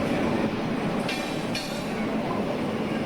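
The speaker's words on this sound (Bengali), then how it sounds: "বসে বসে দেখতে থাকলাম অনেকগুলো ট্রেনের আসা যাওয়া" A train rolls past a railway station platform with a continuous loud rumble and rattle of wagons, brief metallic squeals from the wheels cutting through near the middle.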